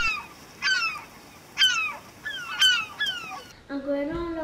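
Seabird calls by the Iroise sea coast, a gull giving four or five harsh descending cries in a steady rhythm, fairly close, followed by a lower honking call at the end.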